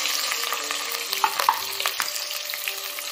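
Onions, green chillies and mint frying in a pan, a steady close sizzle with a few sharper pops and faint stirring scrapes running throughout, no voices.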